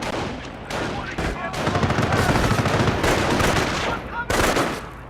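Bursts of rifle and machine-gun fire in a Company of Heroes skirmish, loud and close, coming in several clustered volleys with short gaps between them.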